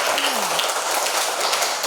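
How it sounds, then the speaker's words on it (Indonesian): Dense, even clapping from a classroom of students applauding a classmate, loud and close, with a brief voice at the start. "Tepuk tangan dulu untuk anak Friska."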